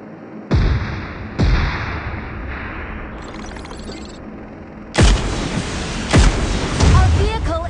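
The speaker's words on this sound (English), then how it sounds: "Firing sounds detected." Gunfire in PUBG's payload mode: several loud, sharp shots at irregular intervals, some close together, over a steady in-game background rumble.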